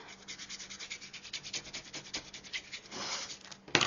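A sticker sheet for a traveler notebook is burnished by hand, giving quiet, rapid back-and-forth rubbing strokes close by. A brief louder scrape comes at the end, with no talk.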